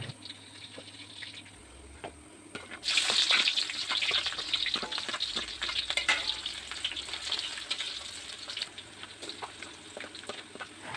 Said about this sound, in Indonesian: Nah di sini saya mau numis pakai minyak yang dari mama saya.